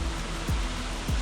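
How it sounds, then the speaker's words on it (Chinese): Jeongbang Waterfall on Jeju Island, which drops straight into the sea, gives a steady, dense roar of falling water, loud and close, broken by two brief low thumps. "正房瀑布它是亚洲唯一一个直接流向大海的瀑布"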